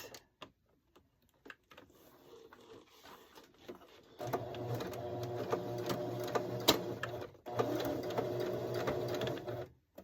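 A few scattered clicks, then a sewing machine runs loud and close in a rapid stitching whir, pauses briefly, and starts again.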